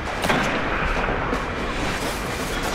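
Video game gunfire from an auto rifle and snipers in a shooter, heard as a dense, loud, continuous barrage of booming shots with no gaps.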